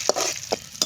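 Karu vadagam frying in hot oil sizzles steadily while a spoon stirs the pan, giving three short scraping clinks over the continuous hiss.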